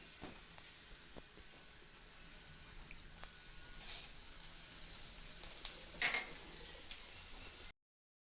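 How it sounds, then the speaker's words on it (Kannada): Dried red chillies frying in hot oil in a pan, with a steady, quiet sizzle and some crackling that grows slightly busier toward the end. "ಎಣ್ಣೆ ಬಿಸಿ ಆದ ತಕ್ಷಣ ನಾನು ಅದಕ್ಕೆ ಒಣಮೆಣ್ಸಿನ್ಕಾಯಿನ"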